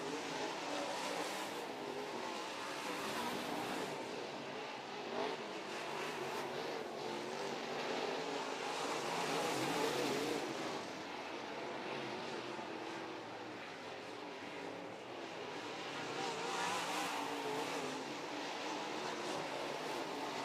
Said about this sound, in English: Ethan Boomsma and Jeremy Elliott at the back of the field doing battle now as 5 laps completed